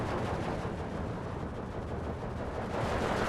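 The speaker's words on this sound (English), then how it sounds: "Got plenty of artillery to lay down, heavy fire here" Heavy artillery fire in the WWII strategy game Steel Division 2, a dense continuous rumble of distant gunfire and shell blasts rolling without a break, fairly faint and steady throughout.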